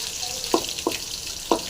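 Crushed garlic fries in a pan with a soft, steady sizzle, broken by three short, sharp clinks spaced through the moment.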